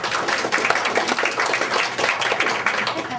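An audience claps for Australian author Kerry Greenwood at Parkdale Library, a steady, dense wash of many hands that holds at an even level throughout without pause.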